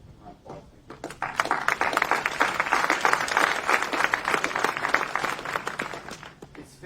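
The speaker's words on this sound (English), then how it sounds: "Round of applause." Crowd at a 9/11 memorial ceremony at the California State Fairgrounds gives a round of applause, dense steady clapping that swells quickly, holds for several seconds and then tapers off.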